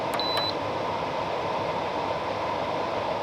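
Short electronic beeps from the timer button on the control panel of a 2013 Frigidaire FAD504DWD dehumidifier with a faulty panel, two quick bleeps at the start over a steady hum of background noise.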